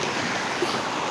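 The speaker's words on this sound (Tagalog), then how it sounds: "So doon dumadaan yung tubig." Water rushing over large rocks at a waterfall beside a mountain river in Malaya, Banga, South Cotabato, heard as a steady, dense broadband roar with no pauses, close to the listener and alone without voices.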